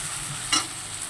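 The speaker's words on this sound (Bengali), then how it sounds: "তো দেখো পেঁয়াজটা লাল লাল করে ভাজা হয়ে গিয়েছে।" A soft, steady sizzle of onions frying until reddish-brown in a pan, close by, with one brief scrape of stirring midway.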